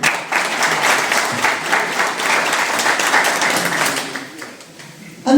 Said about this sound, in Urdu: تو صحیح معنی میں تالی کے حقدار یہ لوگ۔